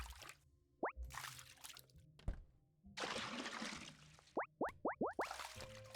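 A chest dropped into water in the puzzle game Recursed sets off a string of bright, bubbly plops, first a single one and then five in quick succession, separated by short bursts of splashy game noise.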